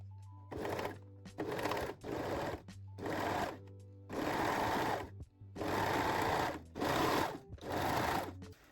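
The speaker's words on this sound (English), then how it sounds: "Then pin and sew the second side seam." A sewing machine stitches the side seam of high-waist panties in eight bursts of rapid whirring, each lasting about half a second to a second with brief pauses between them. The machine is close and fairly loud, with no talking.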